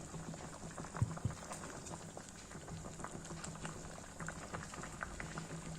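Curry for spicy puri sabji bubbles in an uncovered pot, soft and fairly quiet, a continuous gentle burbling with scattered small pops and a couple of louder bubble bursts near the start.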